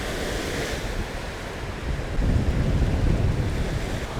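Waves wash onto a sandy lake beach at Matlock Beach on Lake Winnipeg, a broad steady surf rush with wind buffeting the microphone, swelling louder midway through.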